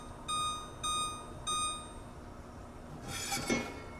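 A kitchen timer set while a buffalo chicken meal-prep pot simmers on the stove gives three short, bright, evenly spaced beeps, followed by a quieter clink and rustle.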